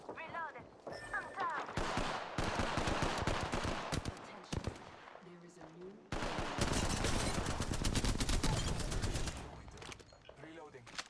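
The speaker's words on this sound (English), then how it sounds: "Listen up, I'm getting shot at." Rapid automatic gunfire in Apex Legends, loud bursts of shots and sustained fire with brief gaps, with a voice talking over the shooting.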